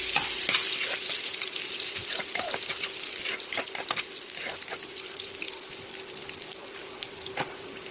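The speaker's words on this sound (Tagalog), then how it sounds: "at magigisa na ako. Sunod ko naman ang sibuyas." Chopped onion sizzles and crackles in hot oil while being sautéed for corned beef, with a steady frying hiss and occasional stirring clinks and scrapes.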